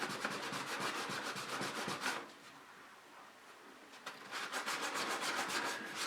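Steady back-and-forth sanding strokes scrub cured Alumilite resin off the seal area of a Harbor Freight pressure pot converted to a resin tank, rhythmic and close, pausing briefly midway before resuming.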